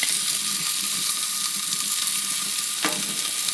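Bacon-wrapped scallops sizzle on a Weber Slate griddle, pressed down under a Beefy Boys burger smasher, making a constant close, loud fry crackle with a brief sharp tap near the end and no talk.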